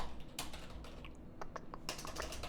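Typing on a computer keyboard gives bursts of soft, close key clicks in uneven runs, with short pauses between bursts, over a quiet room hum. No one speaks.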